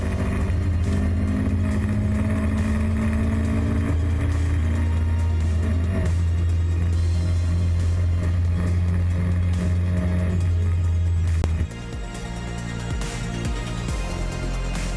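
Barry Scott's race car heard on board, a loud sustained engine drone with shifting pitch through gear changes and a sudden drop in tone late on as the car lifts off.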